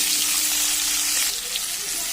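Cut potatoes and eggplant hit hot oil in a wok with cumin seeds, making a loud, steady, close sizzle that hisses without a break.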